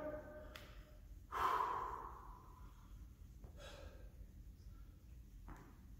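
A person breathes heavily after a HIIT workout, one loud sharp gasp followed by quieter, uneven breaths and sighs, close and isolated over a faint background hiss.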